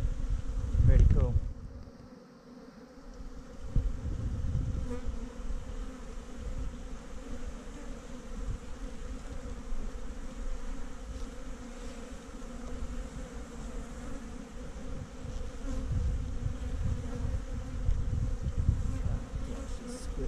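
Iberian honeybees buzz in a dense, continuous drone inside an open hive, heard close up, with a few soft knocks and handling sounds at the start.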